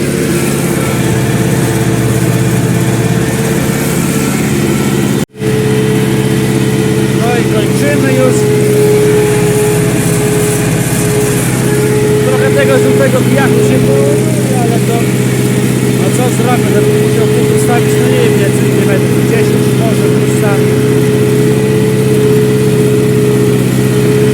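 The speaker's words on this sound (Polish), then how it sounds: "Jak tu ciągnik sam jedzie" An Ursus C-360 tractor engine drones steadily and loudly throughout while ploughing a field, a constant low mechanical hum with a brief dropout near the start.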